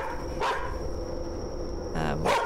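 A dog barks in The Karaoke, a horror video game, with two short bursts of yapping about two seconds apart over a steady background hum and faint game tones.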